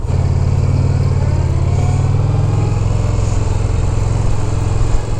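A motorcycle engine runs loudly and continuously, a steady throaty idle with slight revving swells, close to the microphone.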